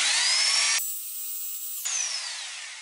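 A power drill with a 5.5mm bit bores into tile while fitting a toilet, a loud high-pitched whine that shifts pitch midway as the bit bites, then returns to a descending whir.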